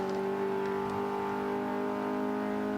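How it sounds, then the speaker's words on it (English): In the Forza 5 racing game, a car engine holds a steady high-revving drone with strong sustained harmonic tones, loud and even for the whole stretch, with no voices over it. "I've been revving up the car a little bit"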